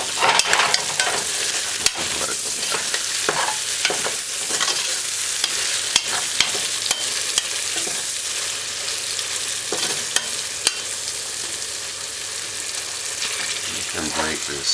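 Cow's tripe and beans cook in a pot with a steady, broadband sizzle and bubbling, broken by occasional stirring scrapes and clicks throughout, near and fairly loud with no talk.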